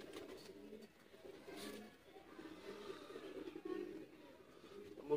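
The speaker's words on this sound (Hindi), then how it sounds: "हसीन और पूरे साइज का कबूतर है" A teddy pigeon, a full-sized bird, coos softly in a few low, faint murmuring phrases under quiet background voices.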